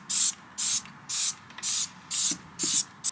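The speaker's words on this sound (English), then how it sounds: "you know, household degreaser spray that I'm using" Household degreaser sprayed onto a car tyre being cleaned of oil. Six evenly spaced, sharp hissing spritzes, close and crisp, each a short burst with quiet pauses between.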